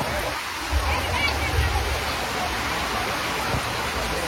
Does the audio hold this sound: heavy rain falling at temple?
yes